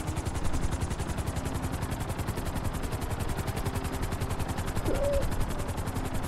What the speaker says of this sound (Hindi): वहाँ पे उतारेंगे हेलीकॉप्टर।